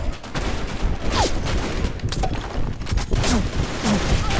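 Sustained video game gunfire from a winter-map shooter rattles on in dense, overlapping bursts, loud and close, with a few short whizzing tones cutting through the steady barrage.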